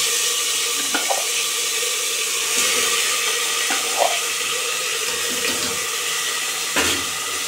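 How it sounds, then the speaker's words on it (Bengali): Onion, garlic and ginger paste sizzles in hot oil with bay leaves for mutton biryani, a steady close hiss with a few small pops and crackles and no talking. "এখন পেঁয়াজ, রসুন, আদা পেস্ট দিয়ে দিলাম।"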